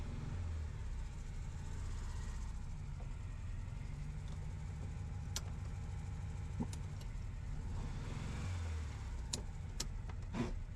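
A 1968 VW Beetle engine idles low and steady while the car backs up, a faint continuous rumble with a few sharp clicks and knocks scattered over it.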